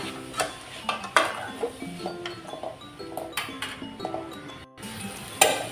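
Leafy greens being sautéed in a pan on a low flame, with irregular clinks and scrapes of a utensil against the metal pan over a faint background sizzle.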